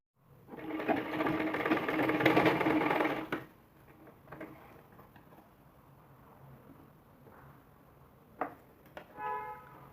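A sewing machine stitches piping for a blouse in a loud, steady whirring run of about three seconds, then stops, leaving faint handling clicks and rustles of fabric.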